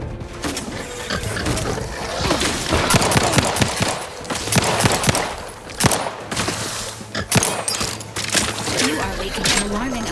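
Rapid gunfire from a firefight in The Outer Worlds 2 rattles in dense bursts and sharp cracks throughout, loud and close, mixed with clattering game effects and voices speaking.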